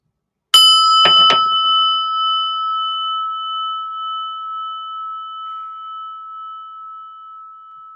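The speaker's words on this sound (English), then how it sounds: "we're just going to listen to the bell ring, and just enjoy the beautiful sound" A meditation bell is struck twice in quick succession, then rings on alone as a clear, steady, slowly fading tone in an otherwise silent space.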